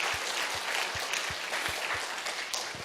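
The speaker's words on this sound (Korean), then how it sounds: "하나님께 영광의 박수입니다." A congregation applauds in a Korean church at a shepherd ordination service, a brief burst of dense, moderately distant clapping that holds steady for a few seconds and thins slightly at the end.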